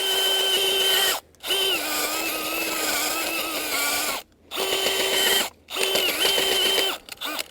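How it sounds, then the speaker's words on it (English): A powered auger bores into garden ground while planting bulbs, running in loud, close, whirring bursts separated by three short pauses as the motor stops and restarts. "when you're digging with an auger"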